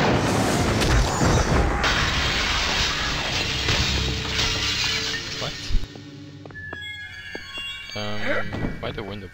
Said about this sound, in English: Why'd the window break?